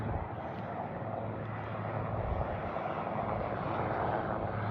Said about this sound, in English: Look at that military helicopter.